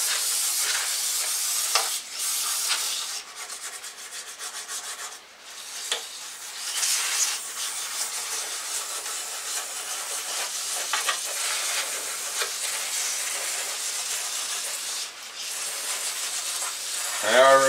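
A spray of water rinses down a 2006 Hummer H3 3.5-litre five-cylinder engine part, a steady close hiss that dips briefly a few times and runs on alone without talk.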